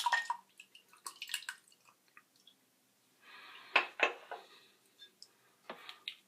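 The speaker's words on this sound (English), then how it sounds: "I'm going to tip the bloomed water from a brush into my mug." Bloomed shaving soap water tipped from a shaving brush into a mug, giving soft drips and trickles with small ceramic taps, quiet and close, a brief steadier pour near the middle, no talking.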